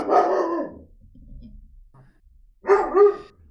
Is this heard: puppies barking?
yes